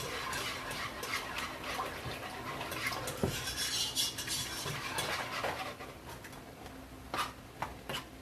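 Cheese sauce for seafood mac and cheese is stirred in a pot, with soft scraping and occasional light clinks of a utensil against the metal, fairly quiet and close.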